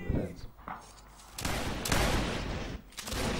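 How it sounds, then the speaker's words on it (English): Rapid bursts of video game gunfire and volleys crackle loudly through a team battle match, layered over one another with brief lulls and faint talk. "start shooting at the free core"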